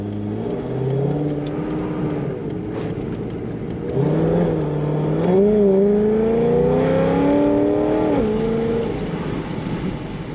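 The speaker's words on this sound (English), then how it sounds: "Now this car sounds awesome, but it also has a little bit of whine to it" A supercharged 2008 Chevrolet Corvette engine revs up and pulls hard, with a rising supercharger whine riding over the deep growl as it accelerates. Close and loud.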